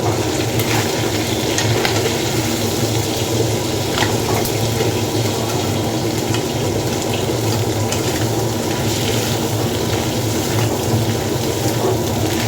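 Steady, loud watery rushing and sizzling as mung lentil dal is poured from above into a hot pan of fish-head tempering, continuous and broadband without pauses.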